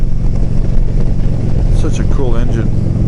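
An engine surges under throttle with a loud, continuous low rumble throughout, while a person talks over it partway through.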